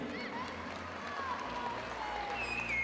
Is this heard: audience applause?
yes